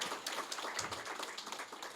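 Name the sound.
audience applause for coalition members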